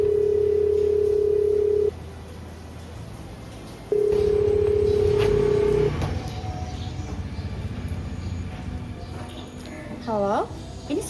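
Telephone tones sound over a phone line in two long steady dial-tone stretches, with a rising ringback or call-connect pattern near the end, mixed with background rumble and some speech.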